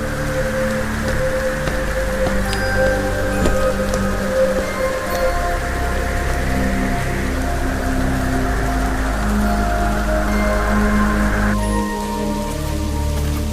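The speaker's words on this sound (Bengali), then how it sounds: "একটু পর বৃষ্টির বেগ একটু কমতে অচিন্ত আবার হেঁটে এগিয়ে যায়" Steady rain falls on a surface, a dense continuous patter that holds at an even volume throughout.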